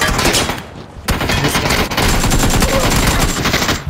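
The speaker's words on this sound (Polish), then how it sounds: "Te strzały z przodu jakieś słychać." Dense, rapid gunfire from PUBG rattles almost continuously, loud and close, with a short break before a sustained burst of overlapping shots.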